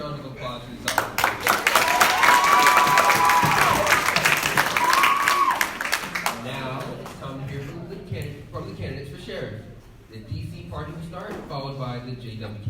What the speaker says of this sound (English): Another round of applause for these officers.